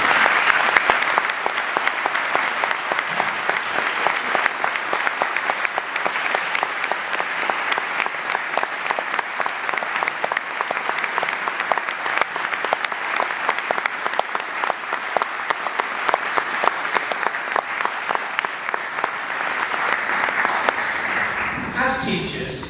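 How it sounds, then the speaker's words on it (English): A school prize-giving audience applauds the teachers with long, dense, even clapping that carries on for over twenty seconds before cutting off abruptly. "I don't know if you could say thank you by a round of applause"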